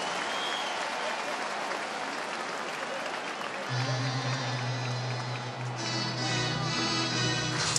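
Dodgers home crowd at a 2019 NLDS Game 5 baseball stadium cheering and applauding, a broad sustained roar that swells and rises partway through, with an announcer talking over it.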